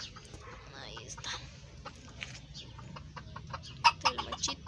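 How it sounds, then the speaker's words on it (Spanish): Rooster and hen in a backyard pen, giving soft, scattered clucks over a quiet background, with a cluster of sharper, louder calls near the end. "Es el gallo giro con su gallinita"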